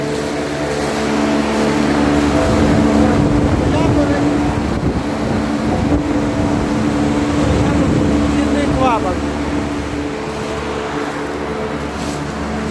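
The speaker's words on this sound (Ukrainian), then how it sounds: "хочу показати, як працює Тут вентиляція. Отакий ось клапан." Continuous whooshing and rumbling airflow from a ventilation valve in a bulk onion store with underfloor air channels, loud and close, with a steady low hum and fluttering noise throughout.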